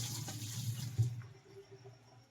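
Water from boiled paneer is poured off through a strainer in a home kitchen, a brief close splashing gush that tapers to a faint trickle.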